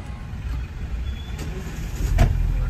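Heavy holiday road traffic near the temple at Ganpatipule, a loud continuous rumble of buses, trucks and cars with engine drone swelling toward the end, heard close by and without speech.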